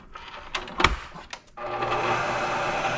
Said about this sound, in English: I'll give it a whisk.